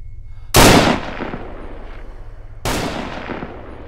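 Two sharp, loud gunshots in Arma 3 a couple of seconds apart, each with a long decaying echo tail over a low background hum.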